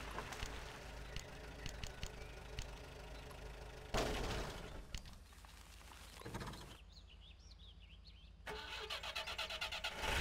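Truck engine starting in Spintires: Mudrunner: a low rumbling idle, a sharp crank and roar as the engine catches, then a quieter muddy lull with a brief whine before the motor swells again, heard without speech.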